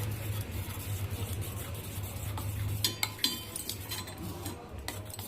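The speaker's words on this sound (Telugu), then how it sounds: "బాగా కలుపుకోండి." Spoon scraping and clinking against a bowl while stirring a face pack paste of cornflour and wheat flour, soft steady scrapes with a few sharper clinks near the end, over a low background hum.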